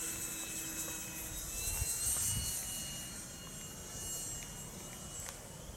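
A Freewing L-39 80mm electric ducted fan model jet flies on a test flight, its high whining fan tone passing at a moderate distance and swelling slightly mid-pass over an outdoor background.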